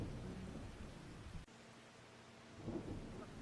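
Rain and thunder in the farming game Farming Simulator 25, with a steady downpour hiss, a sharp thunder crack partway through, then continuing rain and a low rumble swelling near the end.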